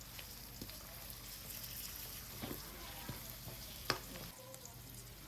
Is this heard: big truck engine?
no